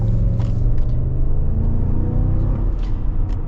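A 2022 Cadillac Escalade Sport's 6.2-liter V8 with a 10-speed automatic rumbles steadily, a deep continuous engine drone heard from inside the vehicle at moderate loudness with no talk over it.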